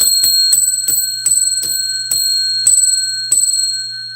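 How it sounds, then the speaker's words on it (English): A bell is struck about eight times in a steady rhythm, each loud, bright ring sustaining a clear ringing tone that overlaps the next strike, with no voices. "I'm going to ring the bell."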